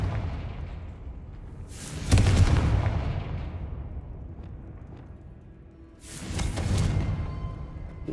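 Two deep, rumbling blasts from the Confringo fire spell in Hogwarts Legacy, one at about two seconds and another near six, each swelling and fading over a low game ambience, with no talk over them.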